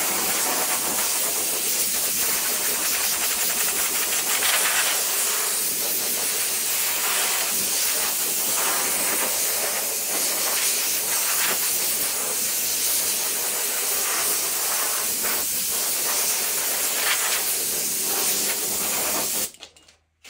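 A steady, loud hiss of compressed air sprays a coat onto flocked duck decoys, continuous and close for the whole stretch before cutting off abruptly at the end.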